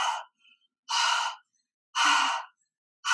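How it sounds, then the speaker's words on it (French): A woman doing a breathing exercise takes slow, audible breaths through the throat, three long airy inhales and exhales spaced by silent pauses, close and clear with no talk over them. "cette respiration par la gorge"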